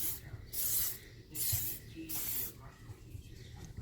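An aerosol can sprays paint onto a rare Toyota Yaris Mk1 car part in four short, close hissing bursts separated by pauses, with faint handling sounds between the passes.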